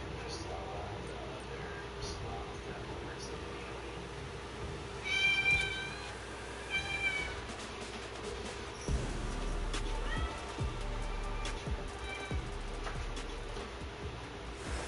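A talkative cat meows several times in short high calls, fairly close, over a quiet indoor background with low game sounds.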